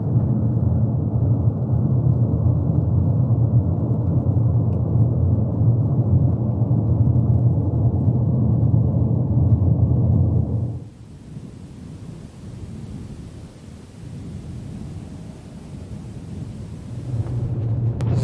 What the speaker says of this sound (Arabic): دخلنا يا اخوان في عاصفة رملية.